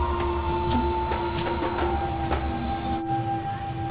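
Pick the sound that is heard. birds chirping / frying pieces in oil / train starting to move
train starting to move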